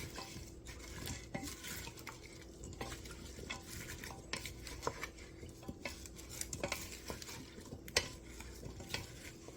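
A spoon stirs a garlic parmesan chicken stew mixture in a slow cooker, giving a continuous soft scraping and clinking against the pot, quiet and close, with no talk over it.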